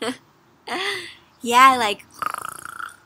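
A voice imitates a large bear snoring, giving several drawn-out, rasping, growly snorts in a row, close and loud, after a brief spoken word at the start.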